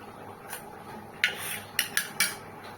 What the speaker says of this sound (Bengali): এক চামচ গরম মশলা দিয়ে দেবো।